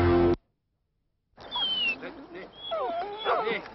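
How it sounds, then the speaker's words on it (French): A basset hound whimpers and yips in a high, wavering whine, with short rising and falling cries close by after a brief silence, in a 1990s French dog food advert. "Le Basséoun, c'est un chien pas idiot,"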